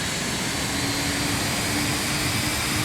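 Cessna Citation 500-series thrust reversers roar in a flight simulator, a steady, loud broadband rush with a faint low hum running throughout, no voices.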